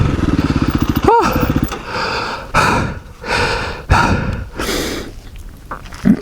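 A KTM 350 EXC-F dirt bike engine on a trail ride buzzes loudly and steadily for about a second and a half, then cuts off. Heavy, close breathing and short vocal sounds from the rider follow.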